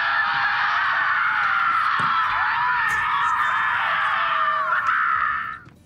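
Loud, harsh screaming from a crowd of enemies in the shooter Borderlands 3, a continuous raucous wall of yelling voices that fades out at the end.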